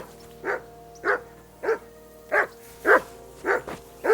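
Dog barking in the medieval role-playing game Kingdom Come: Deliverance II, seven sharp, evenly spaced barks close by over a steady low background hum.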